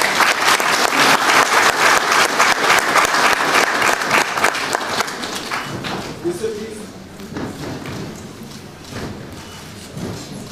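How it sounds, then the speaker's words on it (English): An audience at an energy ministry handover ceremony breaks into loud, dense applause that holds for several seconds, then thins into scattered claps under voices and room noise. "Let's have a round of applause."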